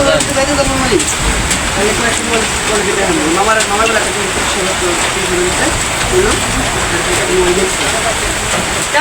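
Steady rain patters on the roof and windows of a bus in a broad, continuous hiss, with people talking inside over it.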